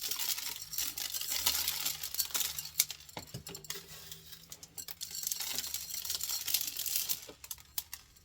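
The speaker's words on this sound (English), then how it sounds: "Sprinkling the beads can be so satisfying." Small beads sprinkled over a glue-covered glass jar make a steady, light patter with crinkly ticks, close and fairly quiet, and no one speaks.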